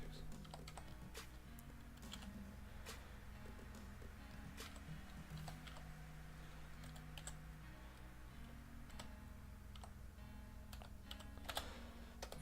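Steady keyboard typing at a computer as a password is entered by hand, irregular key clicks running close and continuous under a faint background hum with musical tones.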